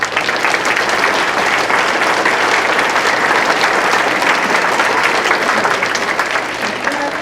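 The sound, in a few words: applause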